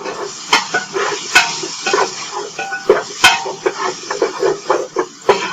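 Onion tipped into a hot pan with potatoes, peppers and rendered bacon fat for chicken corn chowder, giving a close, steady sizzle and hiss broken by sharp clinks and knocks of a utensil against the pan.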